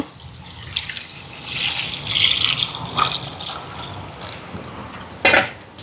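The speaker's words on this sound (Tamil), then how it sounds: "இப்போ பருப்புக்கு தண்ணி சேர்க்குறேன் அவியறதுக்கு." Water is poured into a cooking pot of lentils seasoned with turmeric and salt, a close splashing pour that swells and eases, ending in a brief louder splash.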